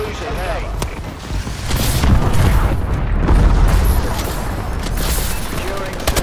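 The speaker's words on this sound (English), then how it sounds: "Bombing run incoming." Bombing-run explosions and gunfire fill a match of Call of Duty: Advanced Warfare, a dense rumbling barrage of booms and crackling shots with deep low-end thuds, loud and continuous across the whole span.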